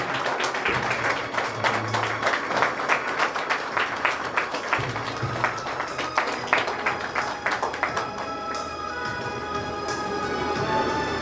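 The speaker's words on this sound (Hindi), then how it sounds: "आइए हम ताली बताएं" An audience at a church praise and worship evening breaks into sustained applause, dense clapping that swells and then thins toward the end, with a faint voice underneath.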